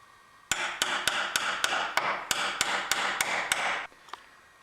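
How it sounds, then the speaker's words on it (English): Hammer striking a chisel to cut a door latch mortise, about eleven sharp, evenly spaced taps in a steady rhythm, close and clear, followed by one fainter tap. "I have it all chiseled out"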